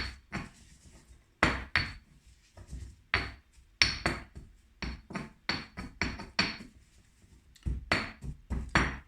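A utensil scrapes and knocks against a pan while coconut is worked into chicken curry paste, making a steady run of close clinks and scrapes in an uneven rhythm with brief pauses between strokes.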